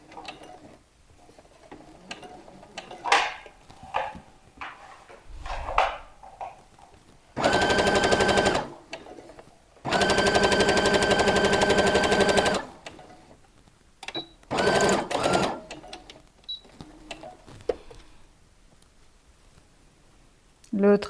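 A sewing machine stitches a summer dress in three separate bursts, two short runs and one longer steady whir, loud and close, with quiet handling and faint speech in the gaps.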